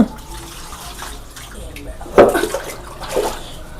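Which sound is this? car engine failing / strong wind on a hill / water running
water running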